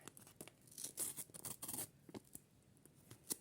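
A small paper packet tears open at its notch, a few quick crisp ripping bursts close by in a quiet room, followed by faint rustling.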